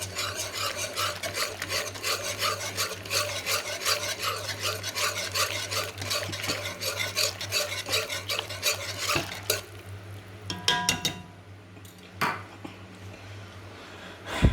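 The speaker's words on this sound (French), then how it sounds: "je vais mélanger tout doucement." Veal stew being stirred in a saucepan, a steady scraping and swishing with a soft sizzle underneath that carries on for about nine seconds, then gives way to quieter, sporadic scrapes and a few clinks.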